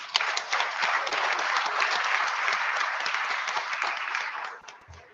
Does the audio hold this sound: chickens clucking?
no